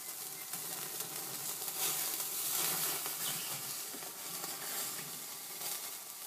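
A big chunk of steak sears over hot embers on a stove, giving a steady, fairly close sizzle with crackling that swells in the middle and holds to the end, no voices.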